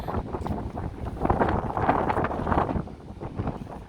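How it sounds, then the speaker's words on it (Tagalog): Steady gusty wind buffeting outdoors near a Miami beach before a storm, a broad rushing roar that swells and eases without pause. "Kaso lang mahangin dahil may storm na."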